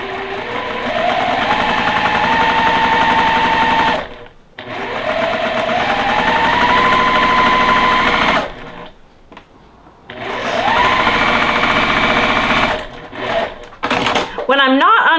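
A sewing machine stitches quilt pieces in three sustained runs with brief pauses between, the motor whine rising in pitch as each run speeds up, loud and close, ending with a few short bursts.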